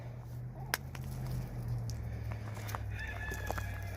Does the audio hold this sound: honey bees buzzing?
no